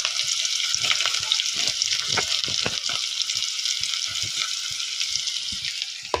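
Onion and green chilli sautéing in a pan for a drumstick-leaf thoran, a close, steady crackling sizzle with frequent soft scraping and tapping from stirring.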